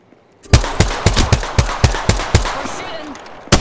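Apex Legends gunfire cracks out in a rapid volley of about a dozen loud, punchy shots at an uneven automatic rhythm, with game ambience beneath and a last shot near the end.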